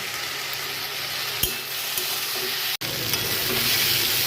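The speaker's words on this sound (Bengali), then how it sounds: "দেখো আমার ভাজা প্রায় হয়ে গেছে, লাল লাল করে ভেজে নিলাম।" Boiled arbi (taro root) and potato pieces fry until reddish, giving a continuous close sizzle with occasional stirring scrapes and one brief dropout near the middle. Nobody speaks.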